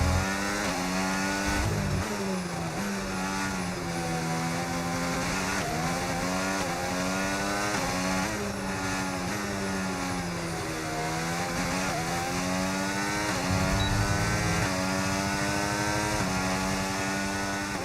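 A Formula 1 race car in the F1 25 video game screams continuously at high revs, pitch rising and falling through upshifts and downshifts as it runs a lap of the Belgian Grand Prix, loud and unbroken with no talk over it.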